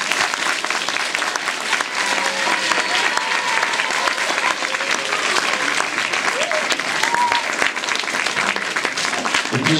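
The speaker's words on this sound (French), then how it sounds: "ils ont tous mérité vos applaudissements" An audience gives sustained, hearty applause for students at an English workshop event, dense clapping filling nearly ten seconds with faint voices murmuring underneath.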